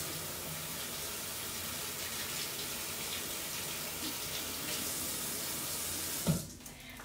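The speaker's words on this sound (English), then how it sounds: "Wash your hands." Hands washed under a running kitchen tap during a cooking class, a soft continuous splash of water that ends in a brief clunk.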